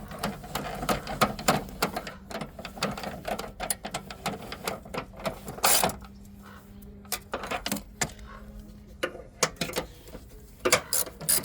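Bolts being tightened on a front motor mount of a 2009 Ford Focus, rapid clicking ratchet strokes and metallic tool clatter in irregular bursts, close and fairly loud, with no talk.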